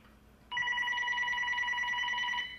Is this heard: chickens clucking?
no